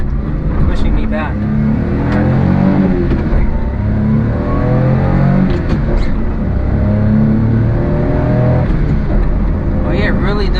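A Honda Vamos kei van pulling hard in fourth gear, its small engine droning loud and steady from inside the cabin, with a voice talking over the sustained acceleration.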